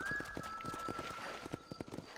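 Horse hooves clip-clop at a steady trotting rhythm in the Red Dead Redemption video game, a series of moderately close repeated thuds over a faint sustained tone.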